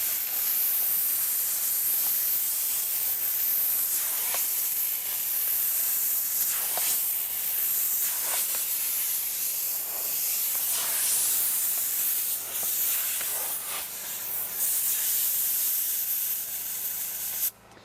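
Compressed air blasts dirt out of the tight spots of a leather car seat, a loud, close, continuous hiss that swells and dips in short surges as the nozzle moves.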